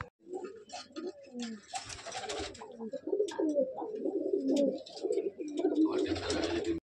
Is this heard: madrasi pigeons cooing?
yes